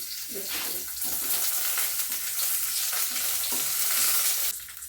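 Bay leaves and dried red chillies crackle in hot oil for a cabbage dorma, a steady, bright sizzle filling the few seconds, close and loud, with a few faint pan knocks under it.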